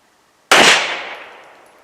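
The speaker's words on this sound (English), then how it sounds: "this is going to be our second shot of the Fort Scott 115 grain TUI" A single sharp 9mm gunshot from a Fort Scott 115 grain TUI round, loud and close, bursting out of silence and then rolling off in a long echoing tail.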